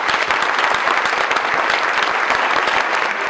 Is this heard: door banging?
no